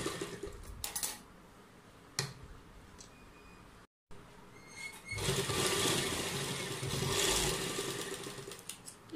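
Sewing machine stitching a fold of kurta fabric to hold a design in place, a steady mechanical whir that runs loudest in the second half, with clatter and handling noises around it.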